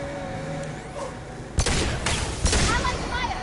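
Allied weapons fire in a Mass Effect 2 firefight: a few sharp bursts of gunfire break out over a rumbling combat background, loud and close, with faint voices mixed in.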